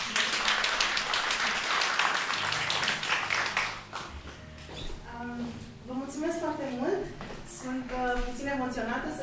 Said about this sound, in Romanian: Vă aplaudăm!